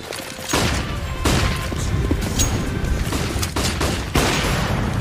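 Shotgun fire in the video game CS:GO, several loud blasts landing about a second apart over a constant dense din of game noise, without anyone speaking.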